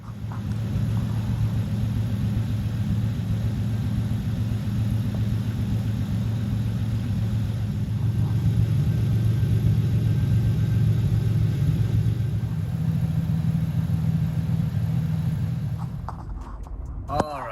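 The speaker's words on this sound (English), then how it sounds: "I am currently driving" A steady low engine rumble from inside a moving car, continuous and fairly loud, fading out near the end.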